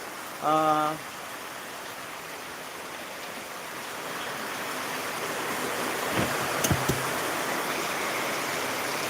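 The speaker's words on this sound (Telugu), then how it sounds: "మనం మా గ్రామంలో కురుస్తున్న వర్షాన్ని మీకు ఎక్స్క్లూజివ్" Heavy rain falls steadily over a village, a constant broadband hiss running through the whole stretch with a few faint knocks near the end; a short voice briefly rises above it at the very start.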